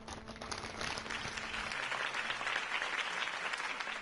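A crowd claps and cheers in a dense burst of applause from the game Telltale's Batman, holding steady and filling the space, with a low murmur fading beneath.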